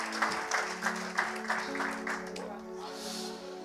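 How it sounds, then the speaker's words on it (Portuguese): A church congregation claps in uneven bursts under a sustained organ or keyboard chord, fairly quiet and thinning out partway through. "Você pode aplaudir ao Senhor por essa palavra?"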